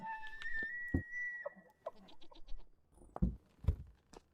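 Goats bleat in the survival video game Vintage Story, several short nasal calls spaced irregularly, fairly near and clear with no talk over them.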